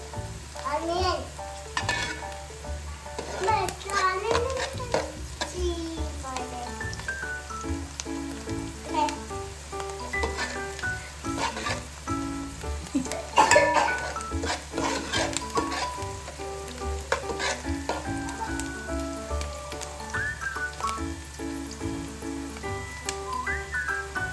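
Onions frying in a pan at home while being stirred, a steady close sizzle with scraping and clinking of the spoon throughout, with faint background voices in places.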